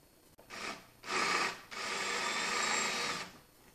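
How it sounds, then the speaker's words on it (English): A power drill bores out old rivets on an intercooler bracket in three bursts, a short one, a second, then a longer steady grind, close up with no talk. "So you'll need to drill this out,"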